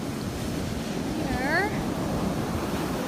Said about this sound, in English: Lots of big waves.